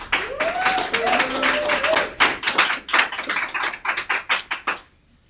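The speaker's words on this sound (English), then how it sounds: "A nice round of applause for Mr." Applause from a modest audience, scattered claps merging into a quick burst that thins to a few final slaps, with a voice briefly heard at the start.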